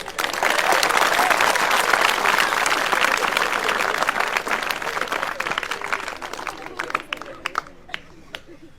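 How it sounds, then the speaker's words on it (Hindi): A crowd applauds after a comic police officer's river-name memory trick at a lively gathering, dense clapping that stays loud for several seconds, then thins into a few scattered claps with some chatter. "तालियां बनते हैं"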